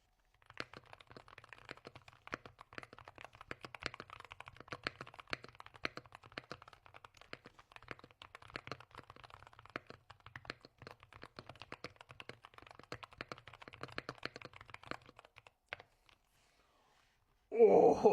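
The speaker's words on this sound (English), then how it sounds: "Let me do a typing test." Rapid, steady typing on a Lemokey P2 magnetic gaming keyboard, crisp clicky keystrokes in quick bursts close to the listener, running for about fifteen seconds before stopping, then a brief loud noise at the end.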